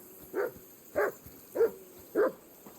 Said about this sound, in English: My dog needs to stop barking.